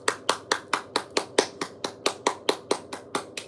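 A single person claps in slow, even rhythm during a livestream, roughly fourteen crisp, close hand claps spaced evenly apart with nothing else heard between them.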